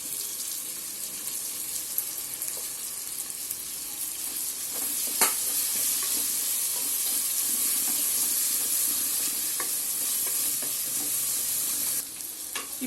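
White onion and garlic fry in hot tempering oil for horse gram rasam, a dense, even sizzle with a few sharp spoon taps and stirring scrapes, close and continuous with no voices.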